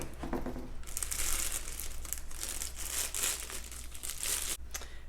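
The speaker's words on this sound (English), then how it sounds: "And I just took the plastic off, and here is the knife itself." Plastic wrapping is peeled off a Rambo Last Blood Heartstopper knife, giving close, loud bursts of crinkling and rustling that come in uneven waves.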